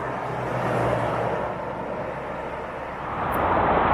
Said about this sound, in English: You can just hear the motorway in the background.